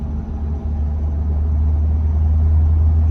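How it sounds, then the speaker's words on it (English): A Ford F250 pickup with a new Fox steering stabilizer on a road test drive, heard from inside as a loud, steady low engine and road rumble that holds constant throughout. "Best part is getting her on the road and taking her for a test drive."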